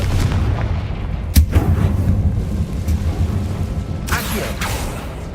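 A Confringo blasting spell goes off in Hogwarts Legacy, a heavy booming explosion with a sharp crack followed by a rumbling tail and a second burst, loud and close.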